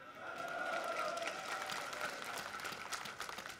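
Steady applause from a crowd at a government meeting with Kariakoo traders, sustained and moderately distant, with a constant wash of clapping that holds throughout.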